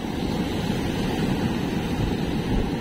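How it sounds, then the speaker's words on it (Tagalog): Large ocean waves surging and breaking close by at 7 AM, water reaching up onto the shore, a dense continuous roar of surf with heavy low rumble and no pauses. "Yan, nagsisimula nang lumaki yung alon"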